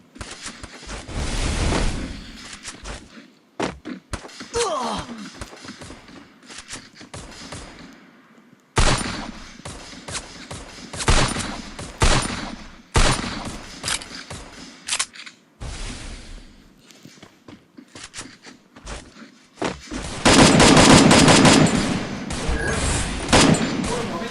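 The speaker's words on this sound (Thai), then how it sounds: "ยิงเลยป่ะ ก็ยิงก็ยิงไปเลย" Video game gunfire, in the 4x4 Baby Hunter game, bursts in loud volleys of shots separated by short quiet gaps, with a heavier sustained barrage near the end.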